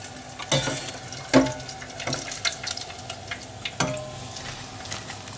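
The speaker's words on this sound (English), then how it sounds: "Now we're gonna keep on frying more" Potato croquettes frying in hot vegetable oil give a continuous crackling sizzle with scattered louder pops, close by and with no talking.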